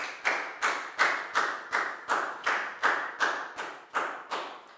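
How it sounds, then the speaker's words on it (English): Round of applause from a Year 4 class, heard as slow, evenly spaced group claps about twice a second, close and clear, with no talking. "Big round of applause for Pak Bung, please, guys."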